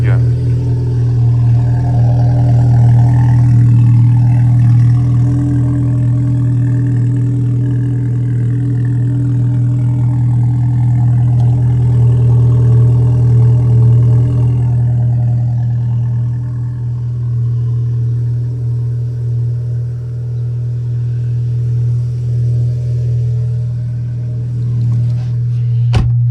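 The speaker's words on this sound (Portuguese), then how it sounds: "Vou até filmar o escape aqui" A Volkswagen Tiguan tuned to Stage 2 idles close by with its exhaust aimed at the listener, a loud, steady low rumble that holds for nearly half a minute with slight throttle changes, ending in a sharp click.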